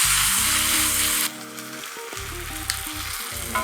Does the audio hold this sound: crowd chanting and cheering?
no